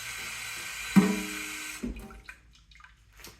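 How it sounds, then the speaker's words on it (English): Water running from a kitchen tap into a container to rinse out leftover chipotle marinade, a steady splashing stream for about a second that cuts off, followed by a few faint drips and small clatters. "it's not going to hurt to have a little bit extra water so we can rinse"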